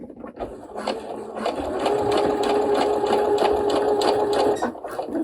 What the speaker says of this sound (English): So now we're going to stitch forward along there, stopping when we get to that point.